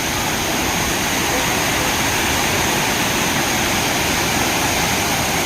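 A waterfall at Macherla roars as a loud, steady, broadband rush of falling water, constant and unbroken throughout.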